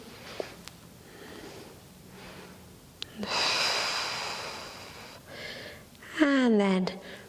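Slow, audible breaths during a gentle post abdominal surgery yoga exercise, a long airy exhale followed by a sharper inhaled gasp, close and fairly soft, without talking over them.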